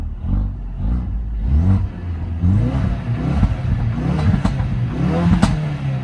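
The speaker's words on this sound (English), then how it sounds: "Let's give it a few revs." A Ford Focus RS in normal drive mode is revved several times while stationary, the engine rising and falling in repeated close, loud swells with a mechanical clatter underneath.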